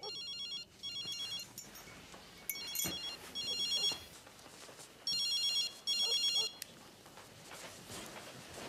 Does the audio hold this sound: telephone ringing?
yes